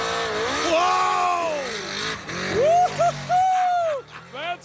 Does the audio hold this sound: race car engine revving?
yes